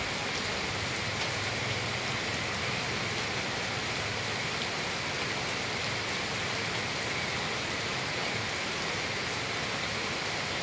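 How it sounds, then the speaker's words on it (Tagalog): Heavy rain pours nonstop in a dense, even hiss of drops hitting surfaces, loud and unbroken, with no voices. "Grabe yung ulan, di na tumigil talaga."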